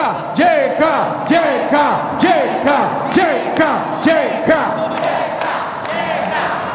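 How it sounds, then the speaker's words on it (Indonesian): A crowd at an MMA lightweight championship event shouts and cheers loudly and continuously, with rhythmic chanted whoops rising and falling in regular bursts. "Semua boleh teriak JK"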